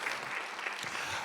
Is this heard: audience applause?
yes